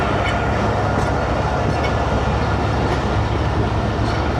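A passenger train rolls steadily over railway track on the Rohri to Mahrabpur line, a dense continuous rumble with faint periodic wheel clicks, close and sustained, with no talking.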